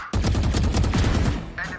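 Rapid automatic gunfire in a video game, a dense burst of repeated shots lasting over a second and then cutting off, loud and close.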